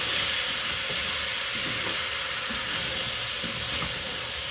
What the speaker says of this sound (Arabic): الرز طبعا هنحمره مع الزيت